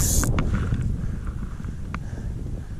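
Strong wind at a mountain lake, a continuous low rumbling buffet against the microphone with a few faint ticks and knocks on top.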